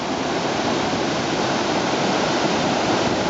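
Whitewater roaring through Blossom Bar rapid on a river among boulders, a steady, loud, broadband rush of churning water with no break, close and continuous.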